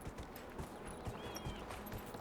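Horse hooves clip-clop in a quick, steady rhythm as a mount trots in Dragon Age Inquisition, faint and continuous beneath a quiet game backdrop.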